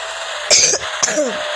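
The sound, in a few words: cough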